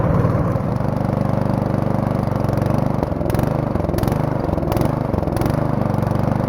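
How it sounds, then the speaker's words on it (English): Troy-Bilt 6 hp snowblower engine running outdoors in below-zero cold, a loud steady mid-pitched drone close by with a few brief surges, no talking. "I'll just blow the snow away from this entrance a little bit."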